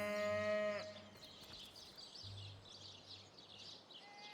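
A sheep in the video game Divinity Original Sin gives one clear bleat at the start, followed by quiet ambient game sound with faint high twittering.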